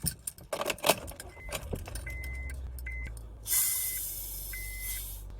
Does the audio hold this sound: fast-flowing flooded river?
no